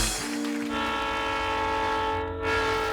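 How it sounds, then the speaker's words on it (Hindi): Train horn blasting steadily with a sustained multi-tone chord over rolling rail rumble, loud and continuous for the whole stretch. "अरे बेटी, वो ट्रेन की आवाज थी।"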